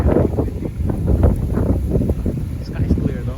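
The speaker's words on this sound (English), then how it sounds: "Of course, it would be windy," Steady wind buffeting the microphone with a low rumbling roar, loud and continuous, with a voice speaking through it.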